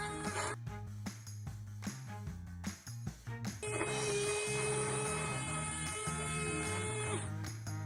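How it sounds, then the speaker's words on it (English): A small motor of a homemade drill whirs up to a steady high-pitched spin and holds it for several seconds, following a stretch of rhythmic thumping. "So that's the drill working."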